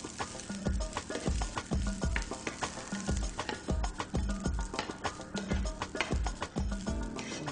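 Parboiled rice is stirred with basil and tempering spices in a hot frying pan. It gives a steady loud sizzle, with repeated scraping strokes of the spoon or spatula and no voices.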